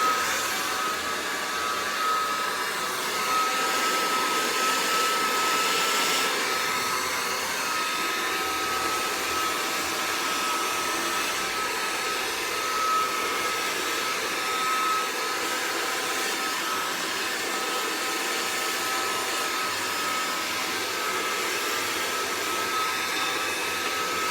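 A hair dryer blows steadily and loudly throughout, a constant whooshing roar with a faint high whine and no pauses.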